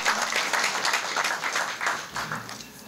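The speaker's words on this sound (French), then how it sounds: "On peut applaudir très fort pour Food Bundles." A conference audience applauds the Food Bundles project with steady, dense clapping that holds for the whole stretch, loud and close, with no voices standing out above it.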